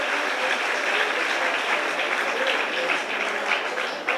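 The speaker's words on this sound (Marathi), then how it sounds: "देवा सगळ्यांनी जोराने टाळ्या वाजवल्या पाहिजे" An audience at a night-time religious discourse by a swami applauds steadily and loudly, a dense crowd of clapping that holds for several seconds without a break.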